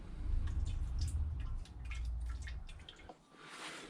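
Clutch fluid is poured into a bleeding hose fitted to a Triumph TR7 clutch system, giving a close trickling, dripping liquid sound over a low rumble that fades near the end.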